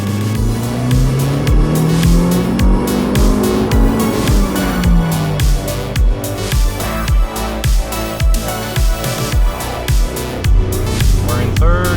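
A 2012 Mazdaspeed 3 pulls hard in second gear from 3,000 RPM toward 60 mph, its engine note climbing loud and close, then dropping at the shift before rising again, with a rhythmic pulsing throughout.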